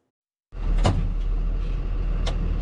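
An Alpenrose milk delivery truck of an old-fashioned style driving on Portland-area roads: after half a second of silence, a steady engine and road rumble sets in, with a couple of brief rattling clicks.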